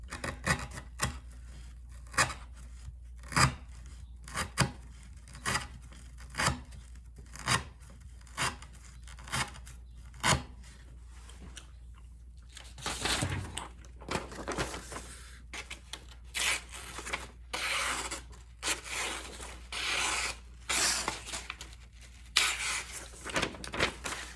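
Cheap HUUSK knife slicing through sisal rope in a cutting test, a series of about ten sharp, evenly spaced rasping cuts, followed by denser scraping and rubbing noises, heard close with no talk.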